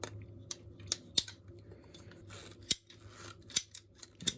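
Hard solvent-weld plastic pipe being cut during a Miele WS5073 professional washing machine repair, heard as a series of sharp, separate snipping cracks spaced irregularly over a quiet background.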